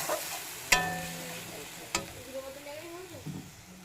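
A spice paste loosened with water sizzling softly in a wok for a paneer and pointed gourd dish, with two sharp utensil clanks against the pan and quiet stirring between them.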